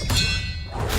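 Expelliarmus spell effect in Hogwarts Legacy, a single soft thud with a ringing metallic shimmer that hangs briefly before fading, close and moderately loud.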